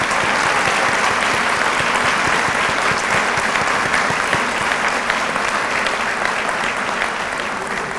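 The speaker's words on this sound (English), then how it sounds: "we're going to take one more opportunity to give a round of applause to all the teachers here tonight." A large audience at an awards dinner honoring teachers claps in dense, loud, sustained applause that barely changes in level for eight seconds.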